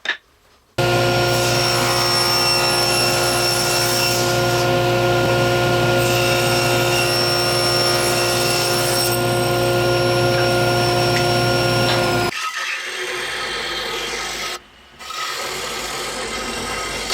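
A power saw cutting a curved business card holder piece out of wood: a loud, steady whining buzz with a rasping edge that runs continuously for about twelve seconds, then stops abruptly, leaving a quieter hum.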